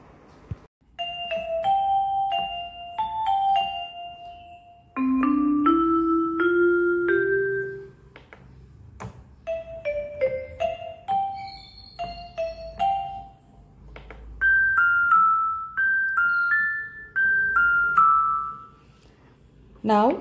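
Percussion voices on a Yamaha PSS-E30 digital keyboard ring out as bright, bell-like struck notes in quick melodic runs with small clicks between them, close and fairly loud, in phrases separated by brief pauses.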